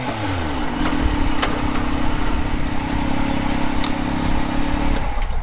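A turbocharged Yamaha YXZ side-by-side revs hard with a steady high engine drone, then drops off abruptly as the throttle is released, with rattling and clatter from rough whooped terrain underneath.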